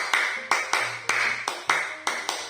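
A group claps in a clap-game pattern during a presentation session, a string of sharp, evenly spaced loud claps grouped in a one-three-one rhythm.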